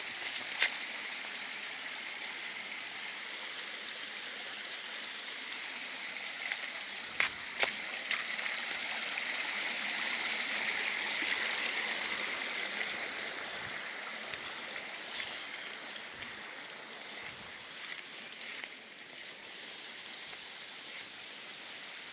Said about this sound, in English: See river, yeah, river.